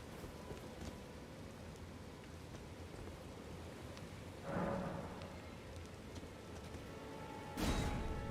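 Rain falls in the Elden Ring video game near Castle Morn on the Weeping Peninsula. A soft, steady hiss runs throughout, with two louder noisy swells where thunder or a heavier burst of rain comes through.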